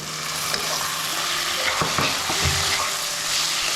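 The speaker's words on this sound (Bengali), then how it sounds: "মশলাগুলো মিশিয়ে নেওয়ার পরে চিকেন কিমাটা দিয়ে কষিয়ে নিন" Chicken mince with cumin powder and spices being stir-fried in a pan, a steady sizzle broken by repeated scraping spoon strokes, close and fairly loud with no voices.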